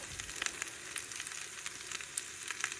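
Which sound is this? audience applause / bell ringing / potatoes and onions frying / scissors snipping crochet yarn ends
potatoes and onions frying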